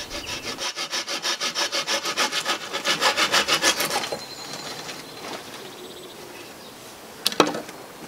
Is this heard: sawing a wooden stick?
yes